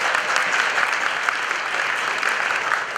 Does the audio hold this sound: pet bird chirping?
no